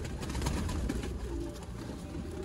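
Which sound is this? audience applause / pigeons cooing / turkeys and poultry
pigeons cooing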